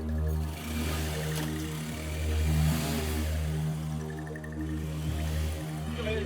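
A scooter engine runs with a steady mid-pitched hum, swelling in a short rev midway before settling back to an even idle, close and fairly loud.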